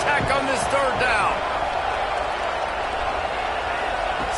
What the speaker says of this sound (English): Guns up, and so is the noise. The crowd electric, trying to help tack on this third down.